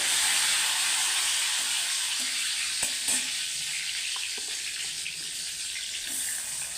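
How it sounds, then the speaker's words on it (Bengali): Onions frying in hot mustard oil with bay leaves, a steady, bright sizzle and crackle close up, with a few soft clinks partway through and no talking. "এইবার এই গরম তেলে পেঁয়াজগুলো ফ্রাই করে নেব।"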